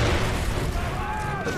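Explosions in the video game Far Cry 3, a loud low rumbling blast and boom with debris hiss that fades away, while a player talks over it.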